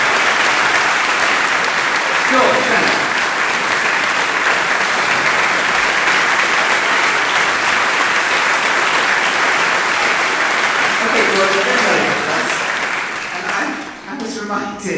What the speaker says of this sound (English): So I think we have a round of applause there